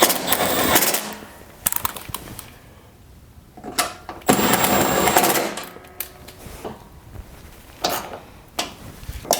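An impact wrench snugs bolts on a Toro Power Max OXE 826 snowblower during an auger belt replacement, set to low torque, firing in several short, loud bursts of rattling hammering separated by pauses.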